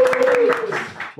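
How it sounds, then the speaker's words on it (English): A studio audience at a dating show gives a round of applause, a dense patter of clapping for about a second. Talk runs over it. "Big round of applause"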